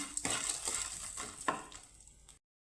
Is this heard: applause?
no